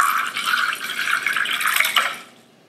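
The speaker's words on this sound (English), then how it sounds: "That sounds like water to me." Water runs steadily with a bright hissing splash for about two seconds, then trails off into quiet.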